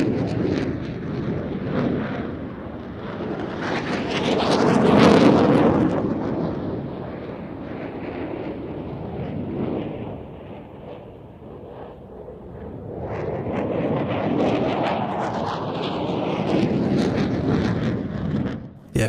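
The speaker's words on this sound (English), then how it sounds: "Jf-17 returning for a fast high G wing over before completing the roll to reposition out to the right." JF-17 and F-16 fighter jets performing air show manoeuvres roar past, swelling to a loud rumbling peak, fading, then building again, with heavy wind buffeting the outdoor microphone.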